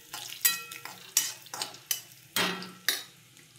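Peanuts stir-fried in a pan make a series of sharp scraping and rattling strokes about every half second, each with a short burst of sizzle, close and moderately loud, with no speech.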